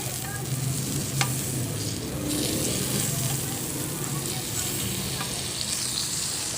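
Food fries in melted margarine in a pan with a steady close sizzle and occasional stirring scrapes throughout.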